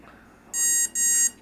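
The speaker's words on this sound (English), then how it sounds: "two beeps is timing mode" Two short, high electronic beeps from an Emax BLHeli 20A drone ESC in programming mode sound in quick succession, clear and close against a quiet background.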